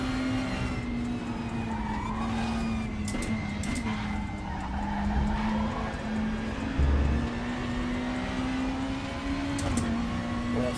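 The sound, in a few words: race car engine and tyre squeal in a Super Tourers racing video game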